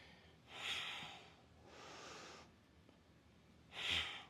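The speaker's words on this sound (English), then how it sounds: "You hear me breathing." Heavy breathing during a deadlift exercise: three long, forceful breaths, audible exhales and a sharp snort-like intake, close to the microphone and fairly quiet, with no talking.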